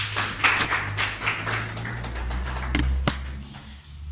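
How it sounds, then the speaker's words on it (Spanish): Congregation clapping in a church service in a loose, uneven rhythm, sharp individual claps near the microphone standing out against a low hum. "Démosle un aplauso al Señor y pongámonos de pie."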